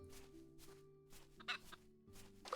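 Chickens in the Travellers Rest video game cluck in short, scattered bursts over a steady low game background, fairly quiet with no talking.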